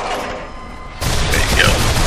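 Pistol shots in the co-op zombie shooter Sniper Elite: Nazi Zombie Army 2, bursting in loud and close after a quiet stretch, with game noise around them.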